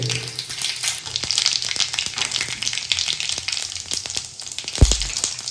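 Mustard seeds and cumin crackle in hot oil, giving a close, busy sizzle full of rapid pops, with a louder thump near the end.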